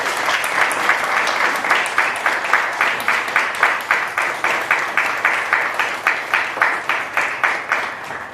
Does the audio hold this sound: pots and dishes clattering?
no